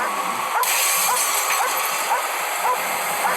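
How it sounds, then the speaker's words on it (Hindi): A pet dog tracking a car barks at it in a steady run of short barks, about two per second and close by, over loud, continuous broadband background noise. "इस कार पर भौंक रही है"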